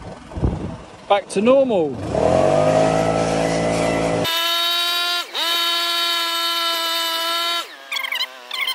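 A petrol leaf blower clears the last debris after a fallen tree is removed. It revs up into a loud, steady, whining engine drone with a couple of brief dips, and short speech is heard at the start.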